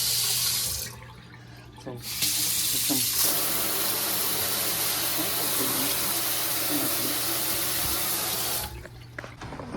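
Water runs steadily from a newly installed American Standard kitchen faucet into the sink, a loud continuous hissing splash that briefly drops and resumes before cutting off near the end.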